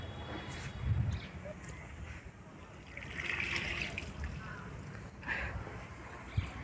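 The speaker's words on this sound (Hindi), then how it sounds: "पानी दे दिए गमले में फ्रेंड्स।" Water is poured from a container into a plant pot in irregular splashing trickles, with some bursts louder and others softer, in a quiet domestic setting.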